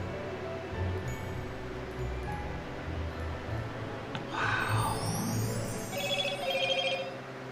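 A mobile phone lying close by rings out with a repeating electronic ringtone over a steady low background hum, the tone bursts swelling in the second half and recurring in a regular pattern.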